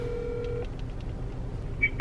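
A telephone line tone sounds on an outgoing cold call, a steady tone that cuts off early, followed by faint line noise and brief chirps near the end.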